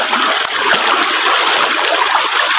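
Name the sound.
strong river current flowing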